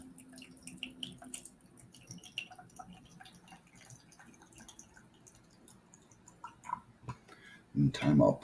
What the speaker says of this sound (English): Meantime, I'll pour myself a little tea